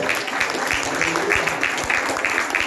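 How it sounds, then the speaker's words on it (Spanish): Congregation applauding during a church service, a steady wash of clapping from many hands filling the room, with faint low thumps underneath and no voices standing out. "Denle un aplauso al Señor."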